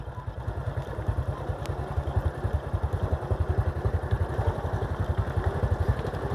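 Motorbike carrying people rides in, its small engine putting out a steady, rapid putter that grows slightly louder as it approaches, heard fairly close by.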